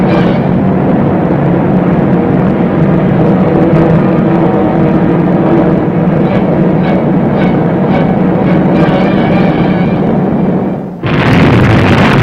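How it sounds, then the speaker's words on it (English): An archival film soundtrack of the atom bomb exploding over Hiroshima, a loud sustained roar and rumble that holds steady, then shifts to a harsher, brighter burst near the end. "He was about to drop the atom bomb."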